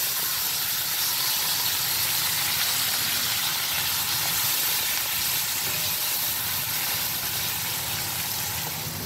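Green chillies and tomatoes fry in a wok with a steady, hissing sizzle of steam that holds at an even level throughout, with no voices.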